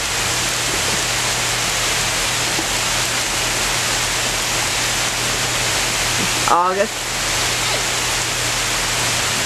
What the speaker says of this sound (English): They're having a ball and it's pouring down rain. Nice summer rain.